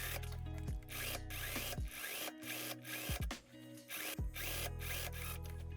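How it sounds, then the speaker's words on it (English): A sewing machine stitches the side seams of a winter coat lining in several short, quick runs. Each run is a close, steady whirring burst that winds down, with brief pauses between them. "we can already go ahead and sew the side seams together"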